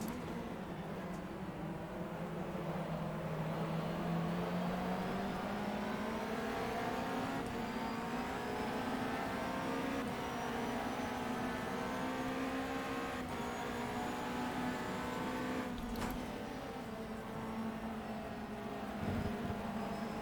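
A Ferrari 360 Modena held in second gear on the Magny-Cours circuit in the GTR racing game gives a continuous, loud engine drone whose pitch slowly rises and falls as it revs for twenty seconds.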